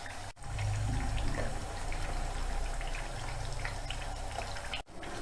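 Chakli frying in hot oil, a steady dense crackling sizzle with fine bubbling that holds at a constant level throughout, with no talk.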